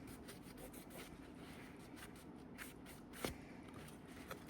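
Heat-tape adhesive residue is scrubbed off sublimation magnets with a quick, rhythmic rubbing rasp, faint and close, with one sharper scrape near the end.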